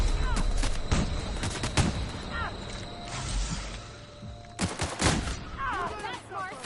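Tactical shotgun fire in the video game The Outer Worlds: several loud, sharp blasts in quick succession over busy game sound effects, with a short pause before a final cluster of shots.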